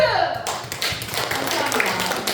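An audience at a side-business seminar in Jeonju breaks into applause, dense steady clapping that fills the room right after a speaker's voice cuts off.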